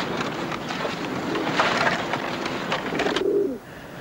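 Pigeons coo inside a coop while a steady rustle of wings and shuffling fills the background, loudest midway and then dropping off near the end.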